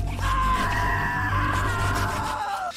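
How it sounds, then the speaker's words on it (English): A man cries out in agony as a sound effect: one long, strained scream lasting over two seconds, fairly loud over a low rumbling background, tapering and falling in pitch at the end. "The man screamed in excruciating pain before collapsing dead in Epona's bog."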